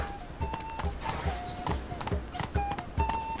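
Roach, a horse in The Witcher 3, gallops with rapid, even hoof clip-clops close by, and a faint tonal chime runs beneath the beats.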